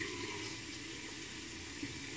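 Hot tap water runs steadily into a sink for rinsing the face before a shave, a constant even hiss close by with no voices.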